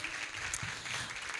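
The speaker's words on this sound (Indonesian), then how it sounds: "tepuk tangan dong untuk Pak Yudi" Short, faint applause from an audience of children and guests at a school event, a soft, distant patter of clapping at low level.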